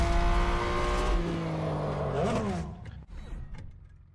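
A Porsche 962C race car in Real Racing 3 roars loudly at high revs, its engine note sliding through gear changes and sweeping pitch as it passes, then cutting out abruptly into quieter rumbling.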